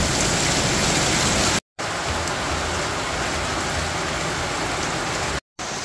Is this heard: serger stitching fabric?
no